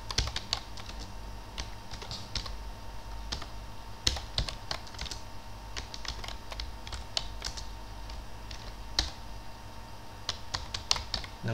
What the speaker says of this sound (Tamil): இந்த இடத்துல எக்ஸலில் வந்து நேம் டைப் பண்ணி வச்சுக்கலாம்.